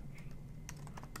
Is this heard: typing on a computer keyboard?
yes